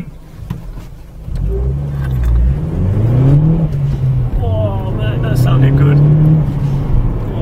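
A modified boy racer car revs hard from inside the cabin, the engine climbing and falling through several surges with a turbo whoosh, while people talk over it.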